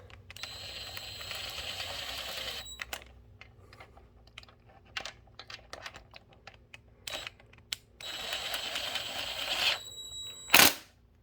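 A small impact wrench cinches bolts on a Sonoma during an LS swap, firing in a few rapid hammering bursts of a couple of seconds each, close and loud, with clicks and tool handling in between.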